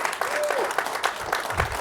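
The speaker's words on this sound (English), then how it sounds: "let's give him a huge round of applause and welcome him to Google here in Birmingham" An audience at a Google office in Birmingham applauds to welcome Chef Mark Joslia, brisk close clapping throughout the short stretch with a brief voice faintly heard beneath it.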